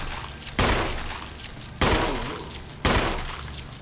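Three loud, heavy gunshots in the survival horror game Resident Evil 1, each striking sharply and ringing down over about a second, spaced unevenly over a low ambient hum.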